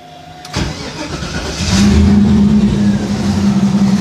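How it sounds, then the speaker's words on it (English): An LS1 truck engine cranks briefly and fires up, settling into a loud, steady idle with a strong low hum, close by and with no talking. "I'm going to start the engine up."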